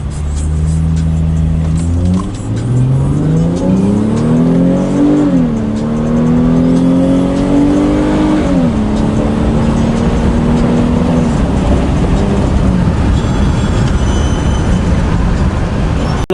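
A BMW 535i with an Active Autowerke tune revs hard, its exhaust note climbing and falling through several loud, close blips before settling to a steady drone, with no talking over it.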